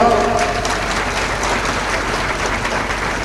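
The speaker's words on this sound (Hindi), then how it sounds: "तुम भी आओ, ताली बजाओ।" A crowd at a religious discourse gathering during the Kumbh Mela claps steadily in a dense, continuous wash of applause that fades slightly as it goes on.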